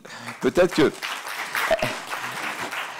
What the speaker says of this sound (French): Je demande de se lever et de l'applaudir.